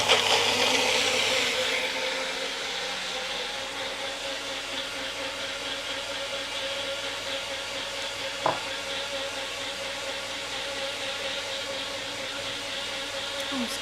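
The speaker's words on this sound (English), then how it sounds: "I'm about to turn a blender on." A kitchen blender whirs steadily for the whole stretch, a loud, close, continuous motor drone with a brief sharp knock partway through.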